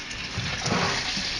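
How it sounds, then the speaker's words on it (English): Cold tap water runs at reduced pressure over vegetables in a colander for soup, a close, steady rushing splash that swells slightly midway and continues without speech. "I'm going to rinse those off a little bit with cold water."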